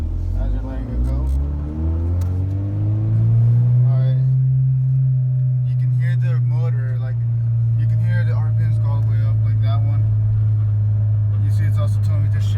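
A manual-transmission car pulls away from a stop, its engine rising in pitch and holding a steady drone inside the cabin while a person talks over it.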